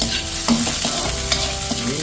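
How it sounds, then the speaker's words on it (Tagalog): Garlic and onion sauté in oil in a pan, a close, bright sizzle with quick stirring scrapes and metallic spoon clatter throughout. "Igisa na po natin ating bawang sibuyas."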